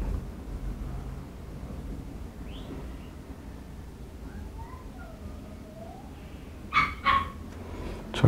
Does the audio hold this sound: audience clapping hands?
no